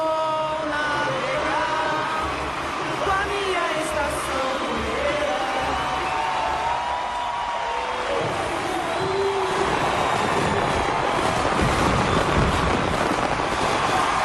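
A big carnival crowd roars and cheers for a samba school's parade performance, with dense, sustained crowd noise throughout that swells louder toward the end.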